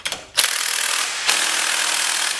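A wrench working on engine cylinder head bolts gives a few quick clicks, then a loud, sustained grinding rasp of metal turning under strain, close and without speech.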